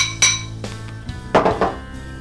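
Pineapple salsa being stirred in a bowl, giving a few scattered clinks and scrapes of a utensil against the dish, close and fairly quiet with pauses between strokes.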